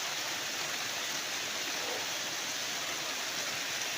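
Rain falls outside on a wet monsoon day, a steady, dense hiss that holds evenly throughout with no voices over it.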